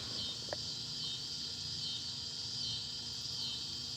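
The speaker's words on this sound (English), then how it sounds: "I think that's the jar flies we're hearing." Jar flies (cicadas) drone at night beside a marina bank, a steady high buzz that is continuous and moderately loud, with faint low background noise and no talk.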